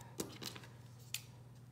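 Scissors trim double stick tape while a self-inking stamp is assembled, producing three quick, soft snips close by over a quiet background.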